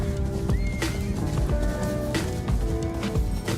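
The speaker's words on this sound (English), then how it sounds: "Running with all those horses." Several horses running in Ghost of Yotei, with hoof clatter and a neigh or whinny over a dense, loud game soundtrack throughout.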